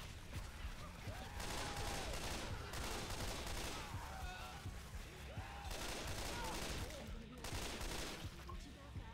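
Rapid bursts of gunfire rattle almost without pause in Left 4 Dead 2 as players fire on a spitter, loud dense volleys layered with shouted voices talking over the shooting.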